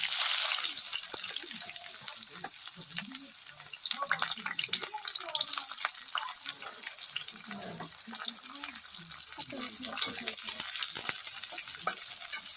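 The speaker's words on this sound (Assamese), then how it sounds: "পিঁয়াজখিনি অলপ সময় ভাজিম ভালকৈ।" Onions sizzle and fry steadily in hot oil, with repeated scraping stirs of a spatula against the pan, close and continuous.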